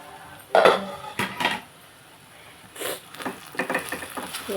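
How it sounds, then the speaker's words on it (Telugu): A metal lid clanks onto a cooking pot of raw banana and mango curry: two sharp clatters close by, then a few lighter clinks and scrapes after a quiet pause. "మనం మూత పెట్టుకోవాలి"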